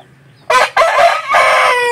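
A single loud, close crow from a heavy fighting-breed rooster of about four kilograms, the call breaking into a few strained segments before trailing off.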